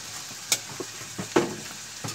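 Clams sautéing in a pan with lemongrass and bitter melon, giving soft sizzling with a few sharp clinks and stirring knocks scattered over a couple of seconds.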